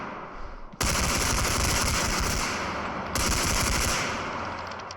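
Rapid automatic gunfire in the first-person shooter Bodycam: two sustained, loud bursts of machine-gun fire, with a brief quieter lead-in before them and a second burst starting partway through, no talking over it.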